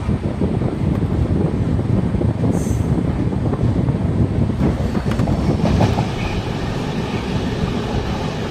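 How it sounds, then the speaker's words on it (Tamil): Covai Express superfast express train running at speed, around 110–120 km/h, heard from aboard: a steady, loud rumble of wheels on rail with wind noise and faint clickety-clack throughout, no talking. "ட்ரெயின் வந்து ஆன் டைமுங்க, நல்ல ஸ்பீடு, 110 120 கிலோமீட்டர் வரைக்கும் ஸ்பீடு போகுதுங்க"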